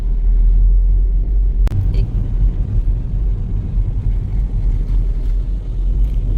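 A car drives along a mountain ghat road on Buldhana's Rajur Ghat in Maharashtra, with a steady loud low engine and road rumble throughout and one sharp knock partway in.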